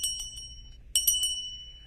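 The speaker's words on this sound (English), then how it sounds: "a bunch of these bells just start going off" Small bells ring out across the Yamada estate compound, a couple of bright jingling clusters, faint and somewhat distant, with no talking.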